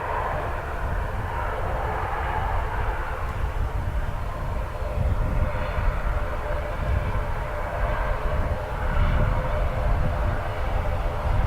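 An ATR turboprop taxis at Dublin Airport toward taxiway Sierra 5 in crosswind conditions, its engines a steady, fairly close drone that swells slightly as it passes, with faint voices underneath.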